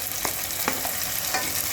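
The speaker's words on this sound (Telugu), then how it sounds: "టమోటా వేసేద్దాము ఇప్పుడు." Tomato goes into a vegetable curry of ridge gourd, capsicum and carrot frying in a pan, giving a steady close sizzle with a few soft stirring scrapes and no voices.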